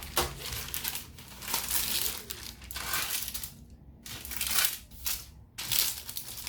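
Greased baking paper is handled and pressed into a baking pan for cinnamon rolls, giving close, loud crinkling and crackling rustles in several bursts with short quiet gaps.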